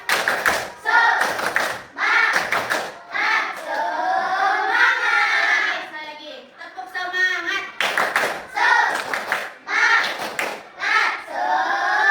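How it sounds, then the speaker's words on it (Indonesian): A classroom of primary school pupils claps in rhythmic bursts of quick, sharp hand claps, alternating with the group chanting between the rounds. "Kita tepuk semangat sama-sama."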